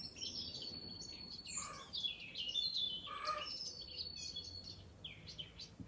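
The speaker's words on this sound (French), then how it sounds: "avec ce magnifique chant d'oiseau" Birdsong outdoors in sunshine during a yoga session, bright chirps and trilling whistles in several short phrases, soft and somewhat distant over quiet background noise.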